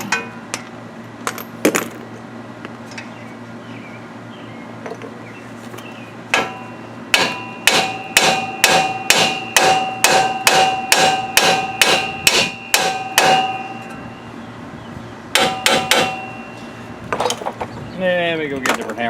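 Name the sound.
hammer striking truck front hub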